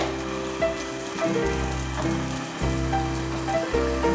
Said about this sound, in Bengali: এবারে আমি বড়াগুলো ভাজবো। বড়াগুলো দিয়ে দেবো তেলে।